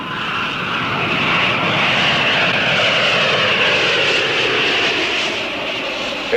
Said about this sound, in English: Air Jamaica announces the arrival of its DC-9 Super Lovebird service from New York.